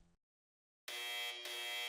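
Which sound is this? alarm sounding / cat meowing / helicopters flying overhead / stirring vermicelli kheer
alarm sounding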